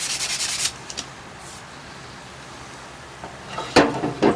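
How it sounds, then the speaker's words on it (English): Sandpaper rubbed over an arrow shaft to strip excess glue, heard as a few bursts of close, dry scraping strokes at the start and again near the end, with a quiet pause between. "Get the sandpaper, kind of sand it a little bit, get all that glue and the excess off there"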